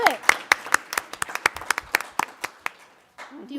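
An audience at a school board of education meeting claps for a presenter, a brisk scatter of hand claps that thins out and stops, with a voice briefly heard at the end.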